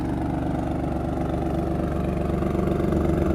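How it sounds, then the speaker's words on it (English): A 505 hp 2018 Alfa Romeo Stelvio Quadrifoglio SUV revs with a deep, pulsing rumble close by through quad exhausts, its throb growing slightly louder and faster toward the end. "Even just revving it up, this thing feels powerful"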